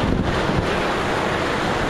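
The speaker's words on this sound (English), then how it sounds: "no sand at all, just nothing but waves and breakers." Ocean waves and breakers at extreme high tide, with the beach fully covered: a steady, loud roar of surf mixed with heavy wind buffeting the microphone, no speech.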